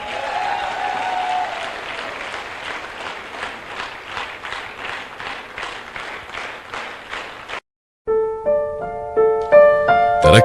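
Rhythmic, loud applause from a large audience at a networking event fills most of the span, pulsing in unison clapping before cutting abruptly to silence and then a swelling musical intro.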